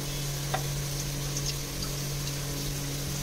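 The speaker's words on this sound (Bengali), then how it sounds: "প্রথমে আগে আমি কড়াইতে দিয়ে নেব সর্ষের তেল" Mustard oil heats in a kadai (wok) for a palang shaak shukto, giving a steady, soft, even hiss over a low background hum, with no voices.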